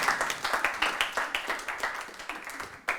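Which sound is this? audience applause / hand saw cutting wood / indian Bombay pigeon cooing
audience applause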